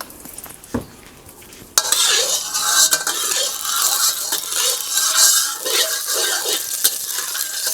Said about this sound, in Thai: เราก็จะมาเริ่มผัดกันเลยนะครับ